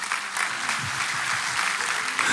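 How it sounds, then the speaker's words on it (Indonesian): Worshippers at a GMS Church sermon applaud Jesus, a loud, dense wash of clapping from a large crowd that holds steady without a break. "Kasih tepuk tangan untuk Tuhan Yesus."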